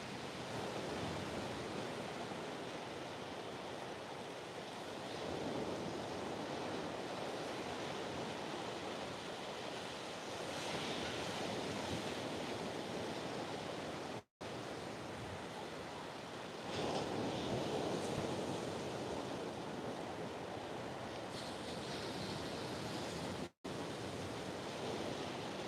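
Waves breaking and washing back on a shallow shore on a whale-watching coast, a continuous far-off roar of surf with slow swells and fades, wind noise over the microphone.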